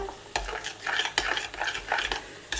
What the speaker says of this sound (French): Donc j'ajoute mes petits morceaux de tomates. Je mélange.